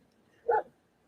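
A single short dog bark sounds at moderate distance, brief and alone against a quiet indoor background.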